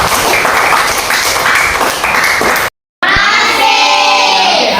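A classroom of students clapping their hands in applause, loud, dense and close for a few seconds, then cut briefly before a burst of cheering and chatter from the class.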